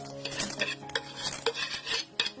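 Spoon scraping and clinking in a hot kadai while dried red chillies and garlic are stirred, a close, busy run of metallic scrapes and taps with a faint sizzle underneath and no voices.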